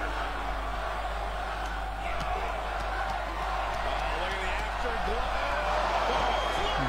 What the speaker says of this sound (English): What a raucous crowd.